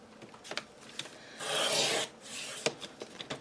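Scissors or a blade cutting through a paper bag, heard as a close, soft rasping cut lasting about half a second, with light rustling and clicks around it.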